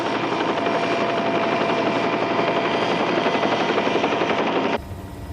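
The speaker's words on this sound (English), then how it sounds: "I'll have to move the copter clear." Helicopter hovering near a crater in a heated volcanic pit, a dense, loud continuous rotor and engine roar with a rapid chopping texture, abruptly dropping to a quieter rumble near the end.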